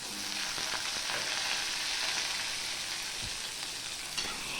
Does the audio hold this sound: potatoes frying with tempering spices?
yes